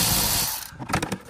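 A Milwaukee power wrench runs close by under a Toyota Sienna with the A25A-FXS engine during an oil change, giving a loud whirring burst that cuts off, followed by a few quick rattling clicks.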